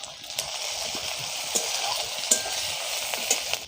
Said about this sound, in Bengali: দিয়ে ভালো করে আমি কষে নেব, আদা রসুনের কাঁচা গন্ধটা যাতে চলে যায়।